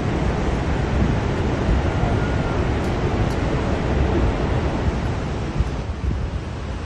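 A continuous dense roar of heavy water pours from Niagara Falls on the US–Canada border, constant and full without pause, a little softer toward the end, with nobody speaking over it.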